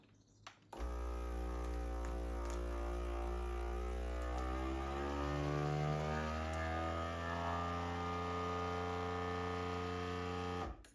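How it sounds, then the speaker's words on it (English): A vacuum sealer motor switches on abruptly while sealing a bag of chicken and runs with a steady droning hum, pitch shifting slightly as it pulls down, then cuts off near the end. "Now I'm going to hit the vacuum seal."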